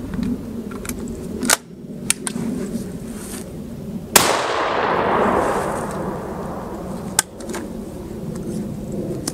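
Short-barreled shorty shotgun with a cylinder choke fired outdoors, several sharp loud blasts, one followed by a long rolling echoing decay, with quieter gaps and distant clicks between shots.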